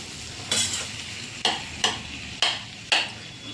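Sabudana khichdi stirred in a pan with a spoon, five sharp scraping strokes at a steady pace over a faint sizzle, close and alone.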